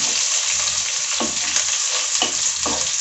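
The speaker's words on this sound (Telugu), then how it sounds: "ఇప్పుడు ఒకసారి ఇవన్నీ చక్కగా కలుపుకుందాము" A spoon stirs ingredients frying in a pan for Nellore-style brinjal curry, a constant loud sizzle punctuated by several distinct scraping strokes.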